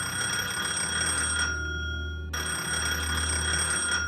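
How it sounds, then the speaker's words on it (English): A telephone rings with a steady electronic trill in an animated manga scene, cutting out briefly midway and then resuming, over a low background hum with no talking. "Denji hears the phone ring and he answers the call."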